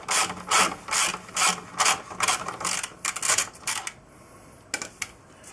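A ratchet undoes a bolt on the swinging arm of a BMW R1100RT motorcycle, sounding as a run of close, rhythmic clicking strokes that slow and pause before a few final clicks.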